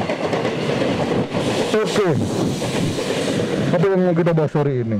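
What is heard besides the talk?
passing train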